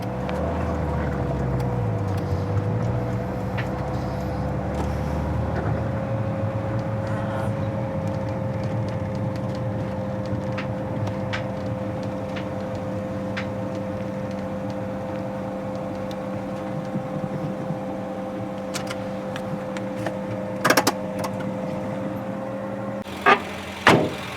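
A camper van fitted with a diesel heater drives along with a steady road drone and a sustained engine hum that fade slightly over time, with a few knocks and rattles near the end and no speech.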